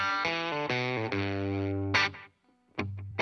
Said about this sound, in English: Here's the Tweed Deluxe sound on its own, which is a lot snarlier, mid-rangey, barky, and a bit saggy compression